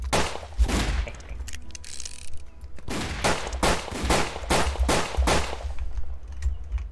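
Rapid revolver gunfire in the video game The Wild West, a string of sharp, loud shots in quick bursts with brief pauses between volleys, heard alone without talk.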